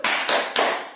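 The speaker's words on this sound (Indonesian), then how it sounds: "Tepuk salut." Three evenly spaced, loud hand claps in a steady beat, part of a group 'tepuk salut' clapping routine during a teacher-training session, each crisp and close with a brief trailing decay.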